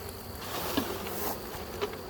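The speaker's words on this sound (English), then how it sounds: "I'm going to dump the bees off the inner cover at the entrance" Honey bees from purchased nucs are shaken off an inner cover at the hive entrance, giving a steady, close, droning buzz with a couple of louder swells.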